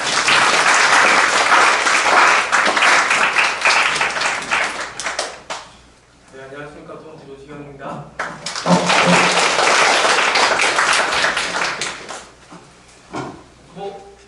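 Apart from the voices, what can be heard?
applause welcoming the professor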